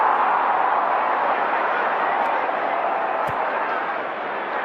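Stadium crowd in the AFL Live 2 football game makes a steady, dense roar of cheering that stays loud throughout and fades slightly near the end, with a couple of brief sharp clicks.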